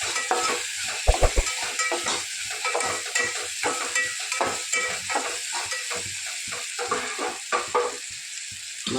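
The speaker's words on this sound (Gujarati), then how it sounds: "ગરમ મસાલો, ધાણા જીરું, રસ બધું મિક્સ કરી લઈએ." Garam masala, coriander-cumin powder and juice being stirred in a hot pan, with a continuous close sizzle broken by rhythmic scraping strokes of a spoon and a few sharp clinks against the pan.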